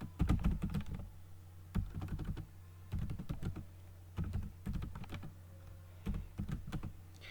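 Computer keyboard typing in short bursts of quick, close key clicks, separated by brief pauses, fairly quiet with no talking.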